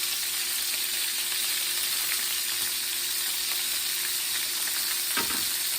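Beef short ribs searing in a hot pan, a steady, loud, hissing sizzle that fills the whole span, up close, with one brief soft clunk near the end and no talk.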